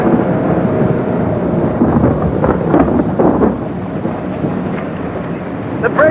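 Heavy rain and wind roar steadily with deep thunder rumbling through a storm, loud and dense, with no voices.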